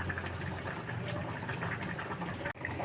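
A pot of Telugu fish curry (chepala pulusu) boiling steadily, with a dense, continuous bubbling and simmering hiss close by and no talking.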